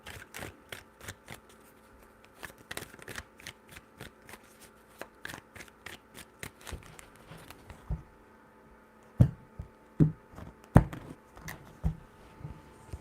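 Tarot cards are shuffled by hand, a fast run of crisp riffling flicks for several seconds, then a few louder, slower taps and slaps as the deck is squared, close and quiet.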